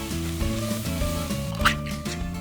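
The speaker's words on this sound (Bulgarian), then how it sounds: "Запържвам ги, докато умекнат." Vegetables frying in a pot, the sizzle steady and close, with faint stirring scrapes, partly under background music, no talking.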